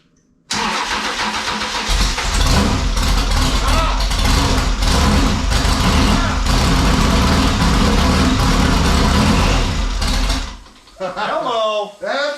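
A Class 1 off-road desert race car engine catches and runs loud and close for about ten seconds, a steady broadband roar with rough idle pulses, then drops off as people talk afterward.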